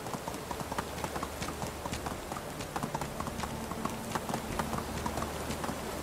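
Horse hooves clip-clopping in the video game Medieval Dynasty: a steady, brisk rhythm of crisp hoof strikes at moderate distance, repeating evenly throughout, over a low ambient bed.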